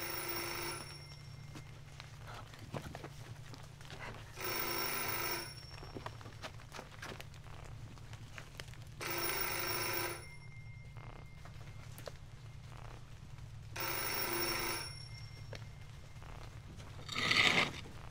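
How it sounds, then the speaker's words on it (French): A telephone ringing at the back of a garden, four evenly spaced rings of about a second each, fairly distant and clear over a quiet background with a low steady hum. "J'entends une sonnerie là. Au fond du jardin, il y a un truc."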